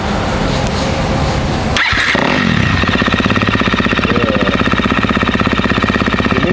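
A KTM SX-F 250 2023 dirt bike engine catches after a brief starter crank, then settles into a loud, rapid, close idle with a steady chugging pulse.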